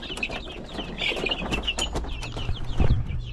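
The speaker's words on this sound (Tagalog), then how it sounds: "dito naman tayo sa mga sisiw ko" Young Dekalb Brown chicks in a coop give rapid, high cheeping peeps in quick overlapping bursts, close by, with a low thump near the end.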